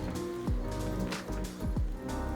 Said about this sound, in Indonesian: Kondisinya hujan dan mendung